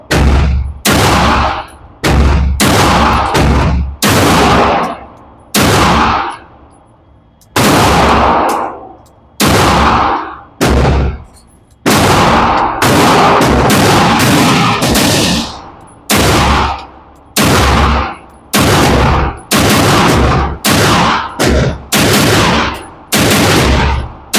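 Several handguns, including a Girsan Match X and a MAC9, fire at range targets. Loud, close single shots and quick strings repeat across the whole stretch with short pauses between them.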